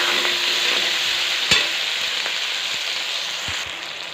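Onions fry loudly in hot oil for chilli chicken, a dense continuous sizzle with a sharp clack of the spoon and a few scraping stirs.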